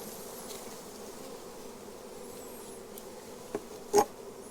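A soft, continuous buzzing of bees hovers in the background, with a couple of brief louder clicks or taps near the end.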